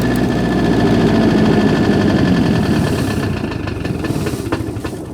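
An MEP 803A diesel generator engine, with air in its injection pump lines, running loud and close with a steady rumbling drone that eases slightly toward the end, with faint knocking vibration.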